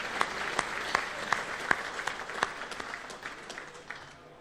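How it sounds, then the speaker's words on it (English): A crowd applauds with steady, dense clapping and a few sharp individual claps, gradually easing off toward the end. "let's have a round of applause for Jim, and for Dallas."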